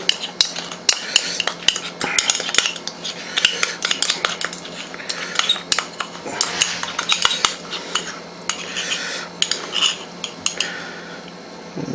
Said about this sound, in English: just mix the cinnamon and sugar together